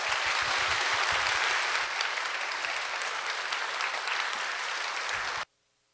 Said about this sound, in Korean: 우리 큰 박수로 김홍석 교수님을 모시겠습니다.